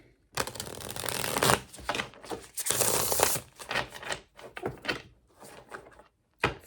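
Tarot cards shuffled by hand in repeated bursts of crisp riffling and slapping, close and fairly quiet, with short pauses between runs and no talking.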